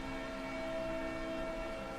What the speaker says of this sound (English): Normally we do not hear the train actually sound its horn.